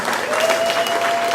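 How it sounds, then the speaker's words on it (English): Audience applause at a comedy show on a farm, a steady wash of clapping from a crowd, close and fairly loud throughout without any talk over it. "And give them a round of applause."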